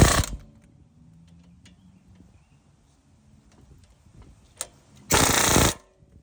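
A fastener on the front brake or broken stabilizer link of a 2017 Chevy Tahoe is tightened with a power tool, giving two short loud mechanical bursts, one at the start and a longer one near the end, with quiet shop sounds between.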